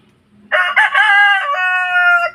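A broodstag gamecock crows once, loud and close, a full drawn-out cock-a-doodle-doo with a rising start and a long sustained tail, with nothing else heard.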